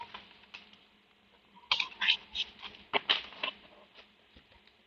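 A deck of cards is shuffled in a series of soft riffling bursts across the middle of the stretch, with quiet moments before and after and no talking.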